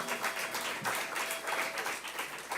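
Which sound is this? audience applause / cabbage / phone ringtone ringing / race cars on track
audience applause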